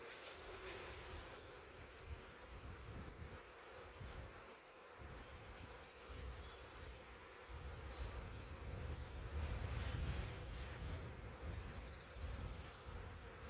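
A massive swarm of honey bees balled up inside a swarm trap box gives a dense, continuous buzzing drone that swells slightly louder toward the end, with no talk.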